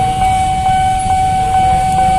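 Train rolling past at a busy level crossing near Senen station in Jakarta, a loud steady rumble with a sustained warning tone or whistle over the top and faint rhythmic clanks.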